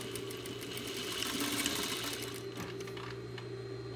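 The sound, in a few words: sewing machine stitching pieces in a row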